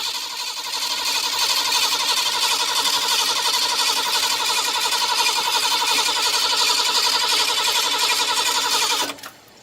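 A 1982 Ford 460 V8 with essentially no muffler runs loud and steady, a raw, throbbing roar that holds nearly constant before cutting off abruptly near the end.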